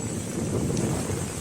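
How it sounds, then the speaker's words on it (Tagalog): Steady, strong wind at Manila Bay roars and buffets the microphone, a continuous low rumble with a faint wash of water underneath. "Ang lakas ng hangin."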